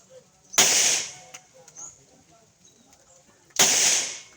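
Two sharp gunshots from firearms during kneeling-position firing practice, each a loud crack with a decaying tail, spaced about three seconds apart, with faint voices and small sounds in between.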